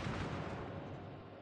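Rumbling artillery fire on a target in a naval video game, a dense continuous barrage of low booms and crackle with no clear gaps, moderately loud throughout.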